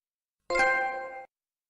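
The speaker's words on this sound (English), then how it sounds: "that's the sound of somebody unlocking a trophy on the PlayStation" One clean electronic ding rings out with a shimmering, bell-like tone for under a second before cutting off. It is the PlayStation trophy unlock alert.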